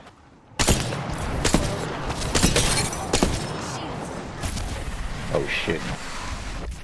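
Gunfire in the battle royale shooter Apex Legends, a burst of sharp shots starting abruptly and continuing in uneven volleys with loud cracks, under a brief startled exclamation and game voice callouts.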